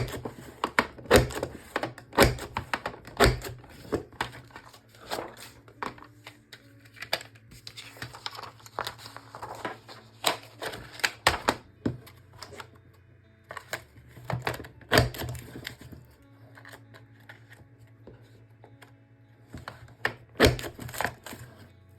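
A paper trimmer slices strips of cardstock in a crafting session, giving repeated sharp cuts and sliding rasps amid paper crinkling and handling noises over a steady low background hum.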